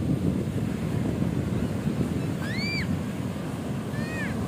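Ocean surf and wind on a quiet beach at Cemara Cipatujah, Tasikmalaya: steady low wash of waves with buffeting wind, plus a couple of brief high whistling calls near the end.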